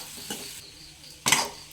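Onions being stirred and sautéed in a pan for an egg roast, with a soft scrape early on and a louder clatter of spoon against pan near the end, over a low background hiss.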